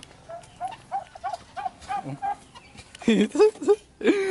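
Turkeys and other farm fowl gobble and cluck in short repeated calls at a hometown farmyard, a few louder bursts near the end, with a voice talking over them at times.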